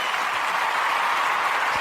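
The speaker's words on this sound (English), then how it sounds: "That deserves a round of applause" Applause on a South African radio show, a brief burst of dense crowd clapping, loud and even throughout with no talk over it.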